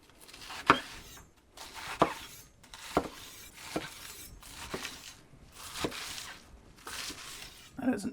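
A 12-inch PAUDIN flat-bladed carving knife slices through brisket, giving a series of soft, irregular cutting strokes with faint board clinks, fairly close and with no talk over them.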